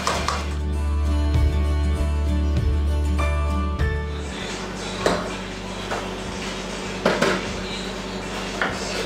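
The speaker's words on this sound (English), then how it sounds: "we need to whisk the egg yolks" Egg yolks are whisked in a bowl with olive oil, salt and black pepper for Caesar salad dressing. A low hum comes first, then irregular utensil clinks and taps against the bowl.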